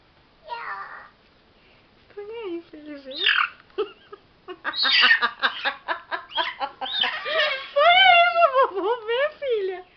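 A rooster clucks repeatedly at close range while a young girl carries it, with a child and an adult talking over the bird's calls.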